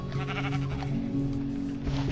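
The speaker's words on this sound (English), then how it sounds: "These are actually sheep, they're not cows." Sheep in Minecraft: PlayStation 4 Edition bleat in a wavering, drawn-out call, loud and close, layered over a steady game background with no talking.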